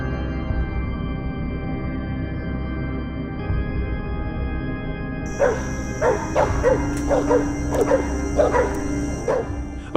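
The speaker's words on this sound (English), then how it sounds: "Russians often handle wild boars using hunting dogs, loyal companions that are employed to track and drive away invasive wild boars" Hunting dogs used to track and drive off wild boars bark in a burst of repeated, fairly close yips and barks through the second half, over a steady low background hum.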